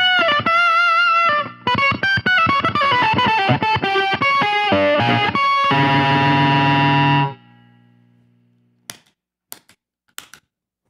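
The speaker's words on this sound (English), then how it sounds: "And the overdrive." Electric guitar through a Pigtronix Disnortion overdrive pedal, gritty, plays a quick run of notes and a sustained ringing chord, then fades, followed by a few sharp clicks.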